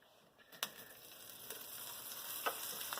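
Beef frying in a little oil in a hot pan, a soft steady sizzle that builds gradually, broken by a few sharp crackles and pops, close and fairly quiet.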